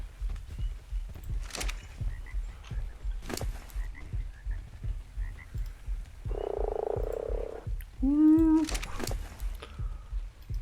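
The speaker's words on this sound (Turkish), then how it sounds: "Kuruk kuruk kurbağa." A frog in the video game Ark: Survival Evolved gives two distinct croaks near the end, one buzzy and one rising and warbling. Game footsteps and thumps sound steadily underneath, and no one speaks.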